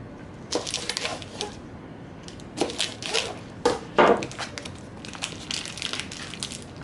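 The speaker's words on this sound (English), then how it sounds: "So now we're going to get our carrots peeled and chopped up." Carrots being chopped with a knife on a cutting board in a home kitchen, making scattered crunchy cuts in short irregular clusters, close and fairly quiet, with brief pauses between bursts.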